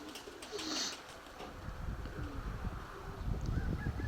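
A female pigeon coos softly in warm sun, a low, steady murmur with faint rustling and distant ambient noise around it.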